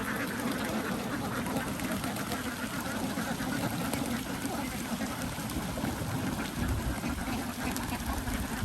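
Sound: ducks quacking on an egg-duck farm

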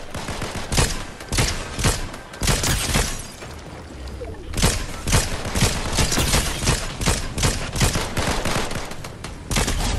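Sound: gunfire in Fortnite video game

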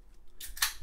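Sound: scissors cutting open a football card pack

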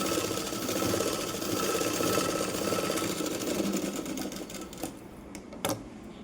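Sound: sewing machine stitching a blouse hook belt

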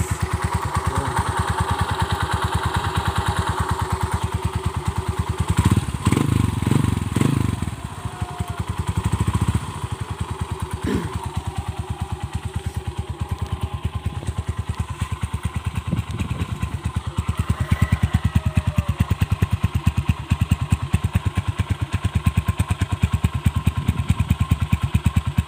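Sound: motorcycle engine idling with new chicken pipe exhaust

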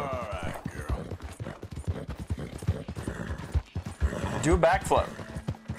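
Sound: horse hooves clip-clopping in video game Red Dead Redemption II

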